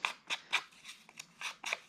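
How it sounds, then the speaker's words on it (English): Scissors snipping through paper while making vintage-style ephemera art, about eight short crisp cuts in an irregular rhythm, close and clear with no other sound. "Cutting with scissors."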